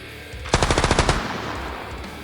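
A rapid burst of about a dozen machine-gun shots rings out loud and close in the video game Cataclysm DDA, followed by a decaying echo and no voices.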